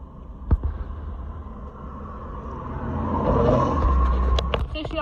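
A car with an aftermarket exhaust is heard from inside while driving. A low engine rumble builds toward a louder drone, with a sharp knock early on and some clatter near the end.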